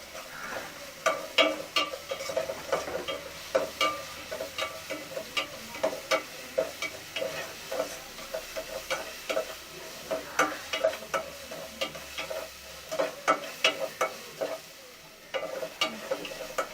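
Ginger frying in a hot pan while a spoon stirs it, steady sizzling broken by repeated sharp scraping and tapping strokes in an uneven rhythm, close and unaccompanied by talk.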